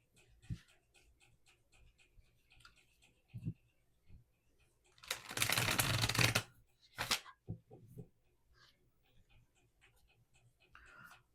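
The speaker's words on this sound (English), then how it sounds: "All right, so I'll shuffle your deck a couple more times" A tarot card deck is shuffled, with one loud riffling burst lasting about a second, then a quick follow-up flutter amid quiet handling noises and soft rustles.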